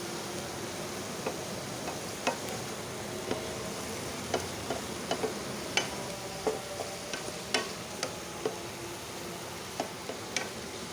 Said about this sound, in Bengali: সবগুলো নেড়ে চেড়ে মিশিয়ে নিব।